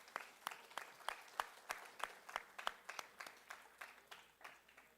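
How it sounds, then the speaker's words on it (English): Faint, sparse clapping from a small audience at an academic dialogue, a handful of distinct, evenly spaced claps over several seconds rather than full applause. "maybe a round of applause from them."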